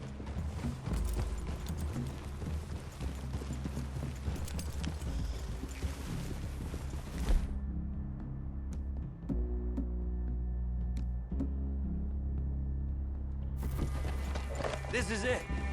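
Horse hooves clip-clop at a run in Red Dead Redemption 2, mixed with game music and ambience, and the sound drops out briefly partway through.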